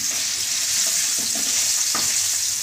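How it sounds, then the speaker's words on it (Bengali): Boiled eggs frying in a pan with salt and turmeric, a steady loud sizzle broken by a few soft scraping stirs, with no one talking. "এবার আমি একটু নুন আর হলুদ দিয়ে ডিমগুলো ভালো করে ভেজে নিচ্ছি"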